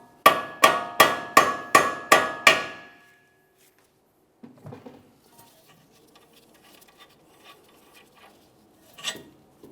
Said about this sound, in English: Otherwise, we'll use a hammer, cause some vibration.